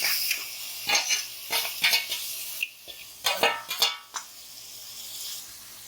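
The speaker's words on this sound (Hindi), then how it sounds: "और अब ज़रा इसको भूनूंगी, थोड़ी इसकी खुशबू आ जाए।" Garlic sizzles steadily frying in a pan, with intermittent scraping and stirring clatter against the pan over the crackle.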